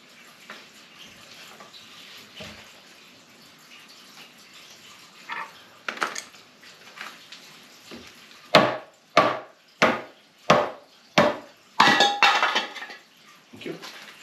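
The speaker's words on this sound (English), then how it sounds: "The wood's about to break. I just heard it split." Wood cracking under tension during flywheel removal, starting as faint creaks and ticks, then a loud run of about seven sharp, evenly spaced snaps near the end, with no voices.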